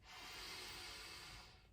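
A slow, deep breath drawn in through the nose during a calm self-love tapping session, a soft airy hiss lasting under two seconds, close and quiet.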